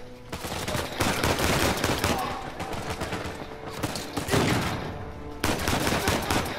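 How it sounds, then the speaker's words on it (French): Shotgun blasts and other gunfire ring out in an Uncharted 4 gunfight, several loud sharp reports spaced across a continuous bed of combat noise, with speech mixed in underneath. "Toi avec ton fusil à pompe, tu meurs."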